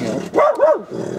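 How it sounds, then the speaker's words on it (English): A dog barks outdoors, two or three close, loud barks that rise over a steady background hum. "yes, being outside means dog barking."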